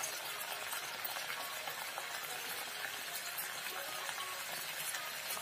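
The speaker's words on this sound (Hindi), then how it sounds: "मैं देखिए गरम से मैं इसे तलने के लिए डाल दी थी।" Raw papaya fritters frying in hot oil, an even, crackling sizzle that runs on continuously, close and moderately quiet, with no talking.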